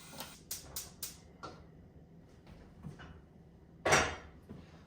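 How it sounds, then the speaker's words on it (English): A large Dutch oven pot handled in a home kitchen while making pot roast, giving several sharp metallic clanks and knocks early on, a pause, then one louder clatter near the end, close and without talk. "I've got a great big Dutch oven pot here"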